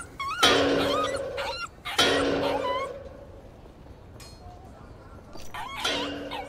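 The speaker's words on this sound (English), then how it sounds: "Where did you get this dog?" Dog in the video game The Inquisitor gives two loud harmonic barks close by, then thin whimpering yelps near the end, over a low murmuring background.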